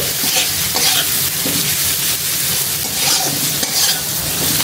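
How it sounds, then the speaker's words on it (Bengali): Pumpkin seasoned with salt and turmeric fries in a pan, producing a loud, steady, hissing sizzle that runs throughout with continuous stirring and scraping, and no voices. "জাস্ট এতটুকু পরিমাণে লবণ আর অল্প পরিমাণে হলুদ আমি আবারও নাড়াচাড়া করে নিচ্ছি"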